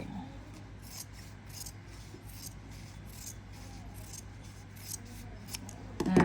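Scissors cutting soft fabric from old trousers, a steady rhythmic series of close snips and rasping cuts, fairly quiet, with a louder handling sound at the end.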